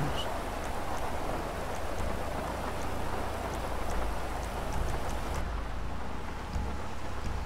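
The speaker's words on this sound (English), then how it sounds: "Oh, it's raining." Steady rain patters against a 1980 Cadillac Fleetwood with a dense, continuous hiss and a low rumble underneath; no voices.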